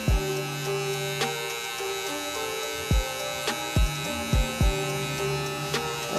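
Electric hair clippers buzz steadily while cutting a high fade haircut, a constant close mechanical hum broken by several short sharp clicks and bumps as the clipper guard moves along the head.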